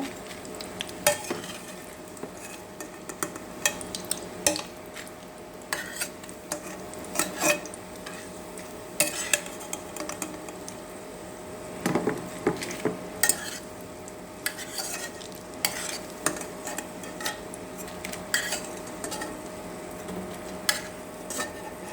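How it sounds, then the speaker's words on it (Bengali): Fried cabbage pakoras are lifted from a pan of hot oil, with a steady sizzle under scattered clinks and scrapes of a utensil against the pan, spread evenly across the span. "আমি এখন এটা পাকোড়াগুলোকে অন্য একটা পাত্রে তুলে নেব।"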